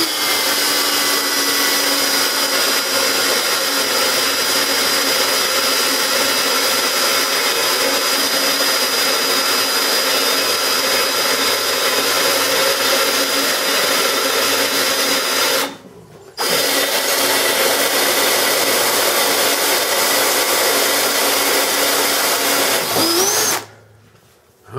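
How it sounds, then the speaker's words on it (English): A power drill whines steadily and loudly for a long stretch, boring a 7/16-inch hole in a Dana 60 axle housing, cutting out briefly twice before running again. "for the quarter by 18 national pipe thread, we got to drill a 7/16 hole"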